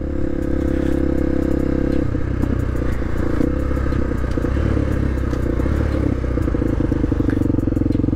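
A 1998 Honda XR 250R dirt bike engine heard up close while riding at low speed, a loud steady thumping drone with a shift in engine note partway through and some rattling clatter.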